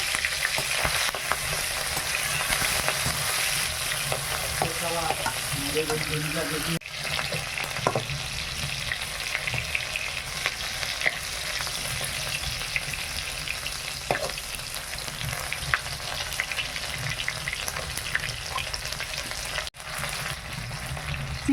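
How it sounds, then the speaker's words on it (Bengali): Three large prawns fry in hot oil in a pan at a village home kitchen, giving a steady close sizzle throughout with occasional stirring scrapes and no talk. "এবার বড় চিংড়াটা ভেজে নেব"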